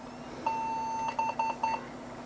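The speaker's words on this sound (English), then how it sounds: "one beep followed by 3 quick beeps is a memory issue" A PC BIOS sounds its memory-fault beep code after the cache and latency 2 RAM are swapped: one long steady tone, then three quick short beeps, clear and alone over a faint fan hum.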